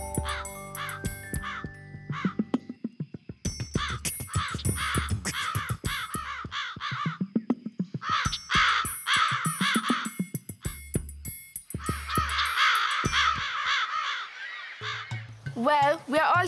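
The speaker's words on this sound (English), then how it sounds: "We have been chasing the birds away." Crows caw over a farm in repeated harsh bursts, several calls overlapping in quick clusters. Voices talk between and over the cawing.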